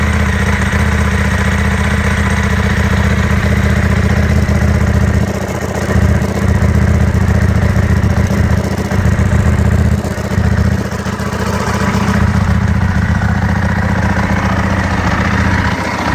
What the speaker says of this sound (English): that's your new bike starting from cold